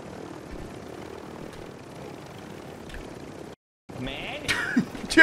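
A helicopter in the video game Warzone 3 gives off a steady whirring engine and rotor drone, then cuts out briefly before returning with louder mechanical clatter.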